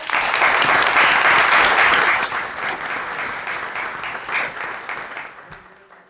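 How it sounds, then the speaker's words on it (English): An audience at a Yorkville city council meeting applauds. The clapping is loud and dense at first, then thins and fades over several seconds. "Let's give these girls another round of applause."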